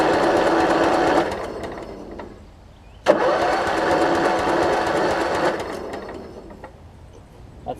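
A Kohler Command engine on a Husqvarna mower cranking over, a loud, rapid mechanical whirring of the starter that stops briefly, then resumes after a sharp click and keeps cranking without catching.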